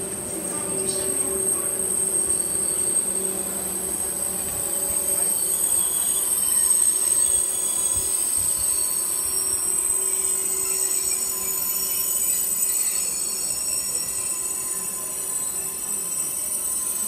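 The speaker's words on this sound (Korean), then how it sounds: "12시 25분에 서울에 잡은 용산로 KTX 782 열차입니다." A KTX high-speed train bound for Yongsan pulls into Suncheon station, with a steady rail rumble and sustained high wheel squeal throughout, and a faint platform announcement beneath.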